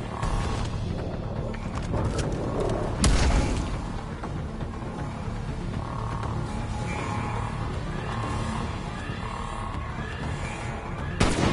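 A grenade blows up among zombies in a PS5 zombie shooter: one heavy, sharp boom stands out over a dense, rumbling bed of game noise and creature growls, with a few fainter thuds later.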